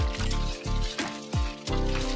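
Water poured into a pan of simmering Mughlai chicken curry, a pulsing glug and trickle in several short bursts over a low steady hiss, close up, with no talking.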